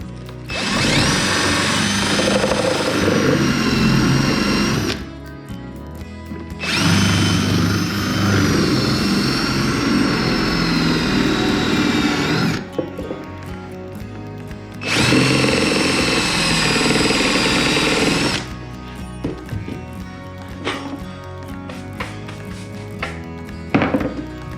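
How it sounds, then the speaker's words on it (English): Drill with a Forstner bit and drill guide boring half-inch-deep holes into a pine knee wall in three long bursts, whining loudly with a steady grinding tone, separated by short quieter pauses. "We're going to drill 1/2 inch deep holes on the knee wall"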